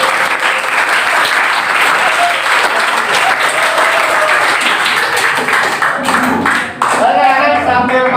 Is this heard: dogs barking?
no